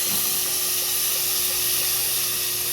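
Sliced bitter gourd (ampalaya) hitting a hot pan for ginisang ampalaya with egg, a loud, continuous hissing sizzle and steam, close and steady from start to finish with no voice.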